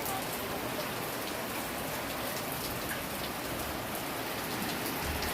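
Rain falling steadily outside a home, an even, continuous patter and hiss throughout, without any voices.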